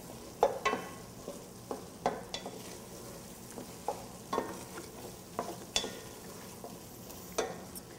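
A spoon stirs traditional risotto rice simmering in stock as the grains plump up near the end of cooking. It makes steady scraping strokes against the pan over a soft, continuous sizzle, with no voices.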